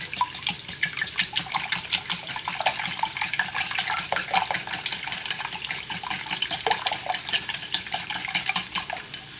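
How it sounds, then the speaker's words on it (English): A whisk beats rapidly against a bowl for a potato egg bake, a steady fast rhythmic clatter of wire on the bowl that runs close and continuous throughout, with no talking. "Let me get a whisk."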